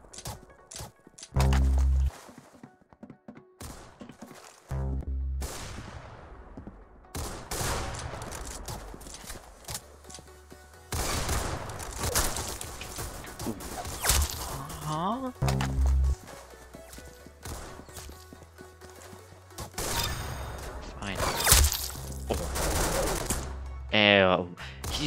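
Gunfire in a video game comes in bursts of rapid shots mixed with other game effects, with someone talking over much of it.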